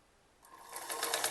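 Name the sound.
sewing machine stitching a sleeve pleat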